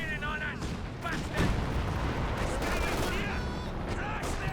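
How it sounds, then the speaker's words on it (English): Incendiary artillery shells pound the battlefield in the strategy game Company of Heroes 2, producing dense, rumbling bursts and crackling fire beneath a commentator's continuous talk. "Some incendiary artillery from Brosras."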